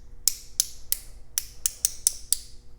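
A Tekton 90-tooth 3/8-inch drive flex-head ratchet gives eight crisp, bright metallic clicks in an uneven rhythm, heard up close over a quiet background.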